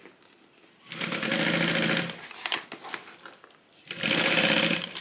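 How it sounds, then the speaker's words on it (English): A sewing machine stitches the top seam of a fabric tote bag in two loud, close bursts of fast whirring, with a quieter pause between them that holds a few small clicks. "now we are going to sew this with a 3/8 inch seam allowance all along the top."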